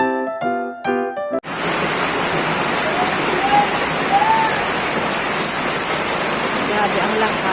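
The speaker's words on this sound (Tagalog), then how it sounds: "ang lakas ng ulan guys dito sa Pilipinas." Heavy rain pours down in the Philippines as a dense, steady roar of hissing water that starts abruptly after a few brief tonal beeps and continues loud and unbroken.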